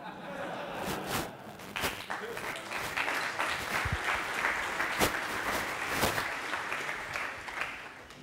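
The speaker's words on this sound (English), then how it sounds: "after the gong, you should clap" An audience at a tech conference talk applauds steadily, with dense, moderately distant clapping sustained throughout and no voices.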